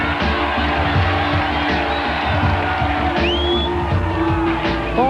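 A large crowd cheers, whoops and yells continuously for a finishing triathlete at the Ironman Lanzarote finish line, a loud, dense roar with scattered shouts and whistles throughout.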